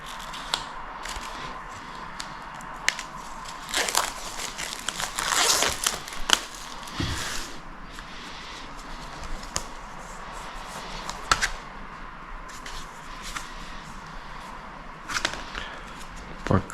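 Unwrapping the plastic packaging of a new We Came As Romans CD, with scattered crinkles, sharp tearing snaps and rustles at close range, quiet between bursts, no talking.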